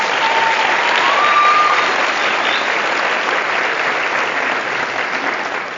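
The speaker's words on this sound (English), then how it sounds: "Let's give all of those who have participated so far a big round of applause." Audience applause at a Black History program, a dense, steady round of clapping that holds loud and even throughout, tapering slightly toward the end.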